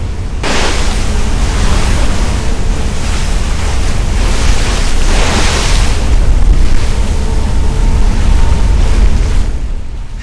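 Heavy ocean surf roars continuously with large waves breaking in long swells during a gale at sea, heard from a small sailboat, mixed with strong wind buffeting the microphone.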